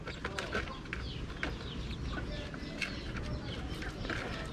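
Chickens in a Philippine backyard cluck and chirp in a steady, moderately close jumble of short calls over constant low background noise, with a few brief sharper calls standing out.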